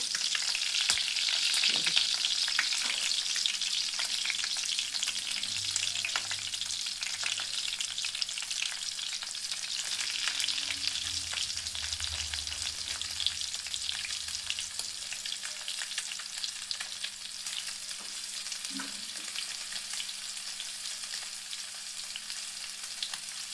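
Semolina-coated fish pieces frying in a little oil in a pan, a continuous close crackling sizzle with faint stirring touches, no voices.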